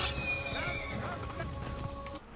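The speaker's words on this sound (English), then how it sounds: "Take the horse, Altair." A horse whinnies in the video game Assassin's Creed, a high drawn-out neigh near the start that fades under ongoing game ambience.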